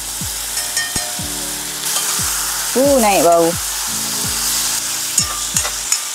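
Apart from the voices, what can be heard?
chicken frying in a pan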